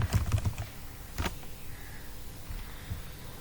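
Quick typing on a computer keyboard, a short burst of close clicking keystrokes at the start, then one firm key press, then faint scattered taps over a quiet background.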